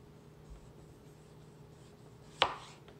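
A kitchen knife cuts through the last piece of a very large potato with one sharp, close chop, preceded by a soft faint tap, in an otherwise quiet room.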